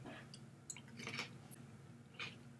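Juicy Vlasic pickle being bitten and chewed close up, with faint wet squishes and a couple of small crunches over a low background hum, quiet and intimate.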